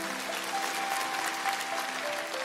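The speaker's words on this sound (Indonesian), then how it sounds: "Berikan tepuk tangan untuk Tuhan Yesus." A congregation at a Sunday church service claps for Jesus. The clapping is broad and continuous, with a faint sustained tone from the room or instruments underneath and no voices.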